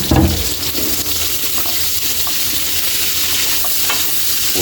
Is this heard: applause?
no